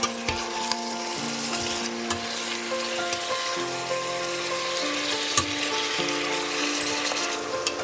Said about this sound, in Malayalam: ഈ മട്ടൻ്റെ കഷ്ണങ്ങൾ ഇതിലൊക്കെ ആയിട്ടൊന്ന് ചേരാൻ വേണ്ടിയിട്ട് നന്നായിട്ട് ചെറുതായിട്ടൊന്ന് ഫ്രൈ ചെയ്യുന്ന പോലെ ഒരു 5-6 മിനിറ്റ് ഹൈ ഫ്ലെയിമിലിട്ടൊന്ന് നമുക്ക് ഇളക്കിയെടുക്കാം